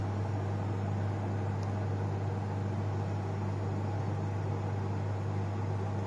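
A steady low hum with an even whir of a microwave oven running while boiling sweet potatoes, constant and unchanging throughout with no voices.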